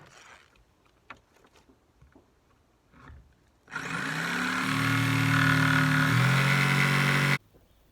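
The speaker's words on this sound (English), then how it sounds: "drilling the hole for the floor drain" Brief faint knocks and shuffling, then a loud power drill whines steadily for several seconds drilling a bathroom floor-drain hole, its pitch dipping slightly under load before stopping abruptly.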